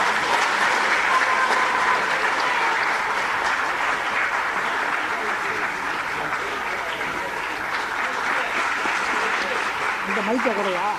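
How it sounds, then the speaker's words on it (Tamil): A ceremony audience at the Delhi Tamil Sangam claps steadily and loudly, a dense, even wash of many hands that keeps going for over ten seconds, with voices faintly audible beneath it. "உங்கள் நல்லா கைத்தட்டுங்க ஐயா கொஞ்சம்."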